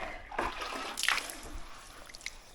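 Short splashes of soapy water poured onto a tire at a leaking rim in a few brief bursts, close by, then a faint trickle fading out.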